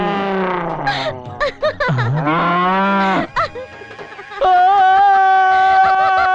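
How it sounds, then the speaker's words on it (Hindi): A buffalo bellows in a series of loud, drawn-out moos with pauses between them, ending in a long sustained call, close by with no talk over it. "वो भैंसा क्यों चिल्लाया?"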